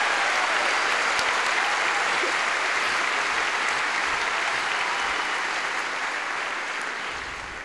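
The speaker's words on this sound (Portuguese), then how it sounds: "Dê para Jesus uma forte salva de palmas." A church congregation at a Baptist cell congress in Brazil gives a long, loud round of applause, dense steady clapping that fills the room for several seconds before easing slightly at the end.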